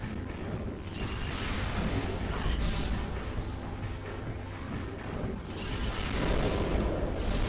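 Annihilator beam cannon firing in Metroid Prime 2, a loud, continuous roaring, rumbling blast of sci-fi weapon noise that holds steady for the whole stretch and swells slightly near the end.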